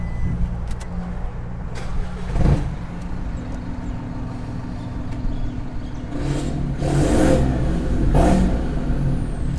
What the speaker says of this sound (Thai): เดี๋ยวผมสตาร์ทให้ฟังเสียง เพราะว่าคันนี้ต้องบอกว่ามีท่อมาด้วย1ใบ